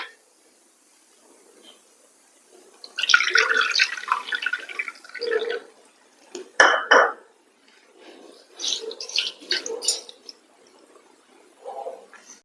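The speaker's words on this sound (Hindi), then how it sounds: "आधा कटोरी पानी ऐड करते हैं इसी कटोरी से।" Half a bowl of water pours into a pan holding a bowl of sugar for balushahi syrup, giving splashy liquid bursts around the middle of the clip amid quieter kitchen handling noises.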